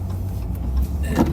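A car driving to the gym, heard from inside as a steady low engine rumble and road drone at moderate loudness, with a brief faint brighter rise near the end.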